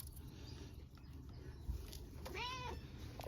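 A single drawn-out cat meow rises and falls near the end, quiet against a faint background hum.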